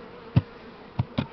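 Honey bees around a hive while a swarm is settled with a Buckfast queen, heard as a low background hum with three brief, louder buzzes as single bees pass close.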